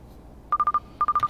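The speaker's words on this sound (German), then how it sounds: "Telefon." Rapid electronic telephone tones chirp in two quick bursts of four beeps each in the video game Drug Dealer Simulator, clean and alone.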